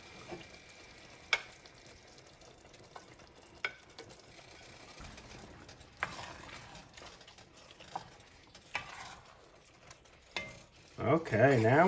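Ground beef goes into a pot of cowboy stew, with a soft steady sizzle under scattered spoon scrapes and clanks against the pot, rising to a louder clatter at the end.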